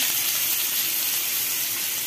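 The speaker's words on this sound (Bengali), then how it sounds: "এবার পেঁয়াজটা ভাজা হবে" Onions frying in hot oil in a pan while chow mein is cooked give a steady, close, broadband sizzle that holds evenly throughout with no voices.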